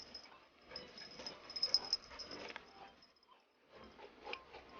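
Dixie Belle the dog sniffs and snuffles close up while playing with a pig, with soft huffs and whimpers rising and falling in busy bursts and a brief lull near the end.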